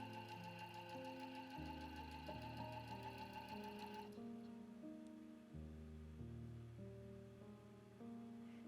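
Sewing machine stitching many small fabric pieces laid on the back of cloth for a pouch, a steady close mechanical whir with rapid needle ticking that shifts pitch and pauses briefly, quiet and alone.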